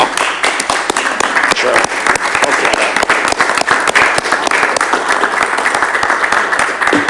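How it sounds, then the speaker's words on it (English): Standing ovation at a town finance committee meeting in Acton, Massachusetts: dense, sustained applause from a small room of people, loud and close, clapping steadily throughout without a break. "I don't think I've ever seen this group give a standing ovation before, Bill."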